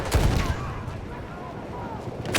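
Gunfire in the video game Battlefield, rapid bursts of shots with a fast rattling edge, mixed under a player's voice.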